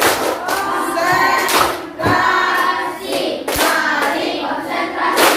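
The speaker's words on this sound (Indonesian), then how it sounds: "tepuk konsentrasi" Schoolchildren in an Islamic elementary classroom clap a rhythmic concentration chant in unison, loud and close, with repeated hand claps under chanting voices.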